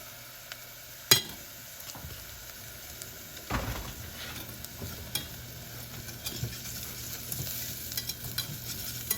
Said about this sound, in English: I'm going to go ahead and add my dry seasonings in there to bloom them so they'll cook